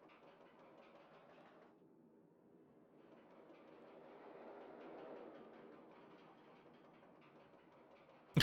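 A roller coaster train running in a video game, producing a faint, continuous rolling rumble with a mild clatter that swells and fades as it travels, then ends abruptly.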